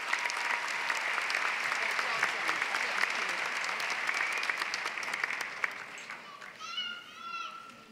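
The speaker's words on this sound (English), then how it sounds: "give yourselves a round of applause" Large crowd of graduates applauding at a community college commencement ceremony, dense steady clapping for about six seconds before thinning out, with children's voices audible near the end.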